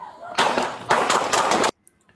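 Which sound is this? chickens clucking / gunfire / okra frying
gunfire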